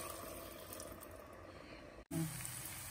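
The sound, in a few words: water being poured from a jar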